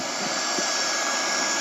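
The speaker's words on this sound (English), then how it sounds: "we want to make sure that we weld our membrane to the corners" Hot-air welding tool heat-sealing a waterproofing membrane into corners, a steady loud blowing hiss throughout with a couple of faint low thumps early on.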